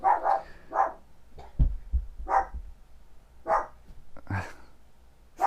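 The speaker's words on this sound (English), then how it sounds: "my dogs are having a little conniption fit" Dogs bark in short bursts, several sharp barks spaced unevenly over a few seconds, fairly close indoors, with brief gaps of quiet between them.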